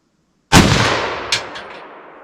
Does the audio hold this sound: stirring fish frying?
no